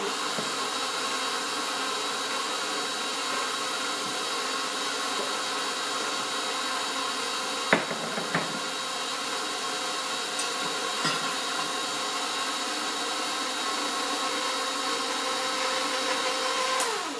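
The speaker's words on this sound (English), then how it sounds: "I'm going to turn the mixer on. It's kind of noisy." An electric stand mixer whirs steadily while beating king cake batter of eggs, yolks and flour, a continuous close motor drone with a few brief clunks partway through.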